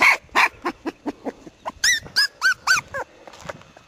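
A dog gives a quick run of short yips and whimpers, then several louder, higher barks and whines close by. No one talks.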